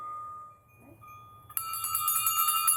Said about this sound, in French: tandis que résonnent les cloches